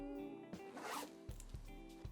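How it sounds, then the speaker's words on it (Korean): The zipper of a wool-style fleece jacket runs open and shut in a few quick, raspy pulls, close to the microphone and clear with no talk. "전체적으로 클래스들이 다 지퍼 여닫임이 좋네요."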